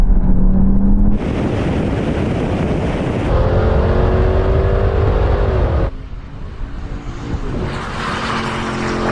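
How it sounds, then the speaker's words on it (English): Several high-performance cars, among them a Hennessy, a Porsche 718 Cayman and an Audi TTS, accelerate hard in a rolling race from 50 mph. Loud, sustained engine roar climbs through the gears, with abrupt shifts and no talking. "Okay, now we're going to do the same thing again, a rolling race, starting from 50 miles an hour."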